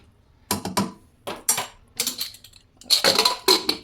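A spoon clinks and scrapes against a metal pot in several separate bursts while coriander is stirred into food, close and fairly quiet, with no talking.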